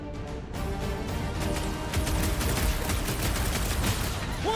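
A cannon fires in rapid, continuous bursts during combat in the Guardians of the Galaxy video game, loud dense blasts with crashing impacts that go on throughout.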